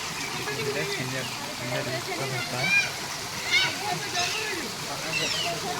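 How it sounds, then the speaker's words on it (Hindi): A man-made artificial waterfall and small stream in a zoo park rush and splash steadily at moderate volume, running continuously beneath a voice talking over it. "ये इंसान ने बनाया, कृत्रिम झरना कहते हैं।"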